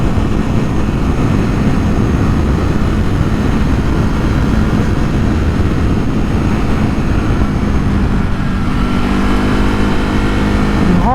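A Ducati HyperMotard or KTM SuperDuke motorcycle cruises steadily in fourth gear along bumpy, winding Welsh roads, with a loud, constant engine drone and wind roar running unbroken throughout, the pitch easing slightly near the end.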